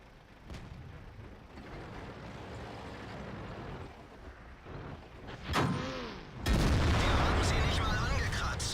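A German E-75 heavy tank firing its cannon in World of Tanks: a rumbling engine bed, a rising mechanical whine, then one loud, heavy boom that fills the last couple of seconds.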